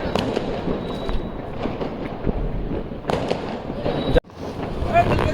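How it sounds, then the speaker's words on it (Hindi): A sky shot firework launches and bursts during outdoor Diwali celebrations, with a rush of crackling pops and a loud bang near the end. Excited voices talk over it. "चलो ये लगा रहा है स्काई शॉट"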